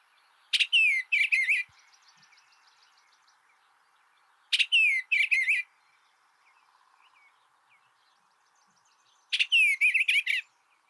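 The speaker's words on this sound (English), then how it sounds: "this bird's song is kind of a gurgly, low-pitched, warbly song" A songbird sings a gurgly, low-pitched, warbly phrase three times, each burst lasting about a second and separated by several seconds of quiet, with faint insect chirring in the background.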